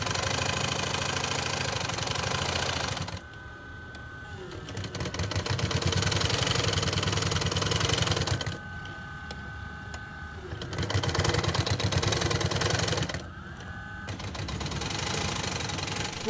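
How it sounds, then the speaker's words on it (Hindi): A stitching machine sews the sole of a Peshawari chappal in a Karachi workshop, running in three long steady mechanical bursts with short quieter pauses between them, loud and close, with no voices. "एड़ी बनने के बाद अब ये सिलाई के लिए आ गया है।"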